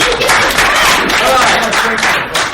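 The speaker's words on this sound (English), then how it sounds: "Round of applause." An audience applauding at a martial arts teaching session: steady, fairly loud clapping from many hands for a few seconds.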